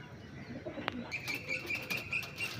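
A male Malayali pigeon gives a single sharp wing clap, then a run of quick, fairly faint calls that follow one another without a pause, with no voices present.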